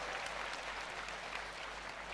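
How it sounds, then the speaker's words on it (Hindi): Loud, sustained audience applause at a Hindi hasya kavi sammelan comedy poetry show, clapping for ISRO, a dense even roar of many hands with no talking. "एक बार जोरदार तालियां हमारी संस्था इसरो के लिए बजाइए।"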